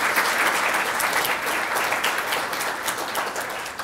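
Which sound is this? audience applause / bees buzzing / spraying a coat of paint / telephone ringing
audience applause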